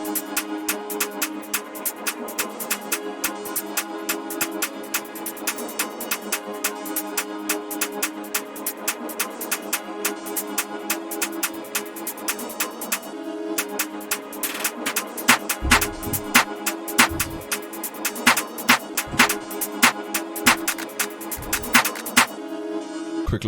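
UK drill drum beat built in FL Studio with randomly panned snares, crisp sharp hits over a sustained melodic backing, with deep booming bass kicks entering in the second half, steady and rhythmic.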